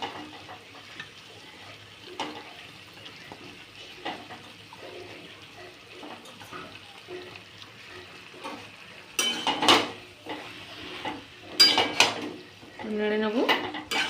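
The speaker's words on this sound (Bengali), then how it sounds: "মাংসটা দিয়ে এবার একেবারে মশলা মাংস একসাথে কষিয়ে নেব" Desi chicken pieces stirred together with spices in a lightly oiled pan for a potato curry, giving quiet scraping and clinks of a utensil against the pan, then louder bursts of clatter and sizzle near the end.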